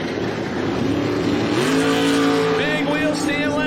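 A 2013 twin-turbo big-block Camaro ZL1 and a 1982 Olds Cutlass drag race at Sick Summer 2024, their engines roaring and climbing in pitch as they launch, loud and continuous under an announcer's voice.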